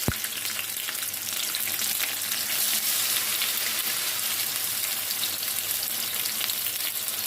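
Eggplant pakoras drop into hot oil in a pan over a low flame, setting off an immediate, dense crackling sizzle. The frying stays loud and steady at close range, with no talking.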